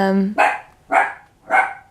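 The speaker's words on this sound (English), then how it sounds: "Oh, the dog is barking." A dog barks three times in close succession, loud and near, with a voice briefly heard just before the first bark in a home setting.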